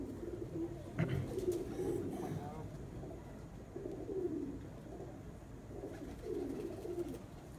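Pigeons perched up high in a loft coo in soft low repeated bursts, while someone talks over them throughout.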